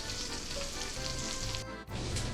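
Continuous close sizzling and crackling of bacon frying in a pan, with a brief dip near the end before the sizzle resumes.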